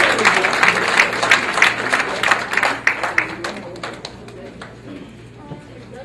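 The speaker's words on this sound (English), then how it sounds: "Let's give him another round of applause, please." A round of applause from the audience at a community center building dedication program, loud clapping that gradually thins and fades over several seconds, with voices chattering underneath.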